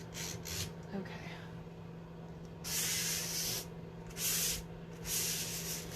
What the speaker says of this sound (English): I'll just burnish the edge of the tape just to make sure it's completely on